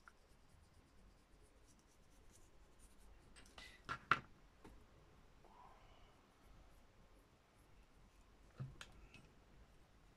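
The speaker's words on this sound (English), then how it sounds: "A Stabilo All pencil." Faint, close scratching strokes of a Stabilo All pencil drawing on a journaling card, soft and irregular, with a few sharper taps and rubs standing out in a quiet room.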